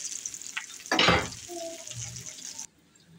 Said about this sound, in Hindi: इसलिए माशाल्लाह कबाब फ्राई हो रहे हैं।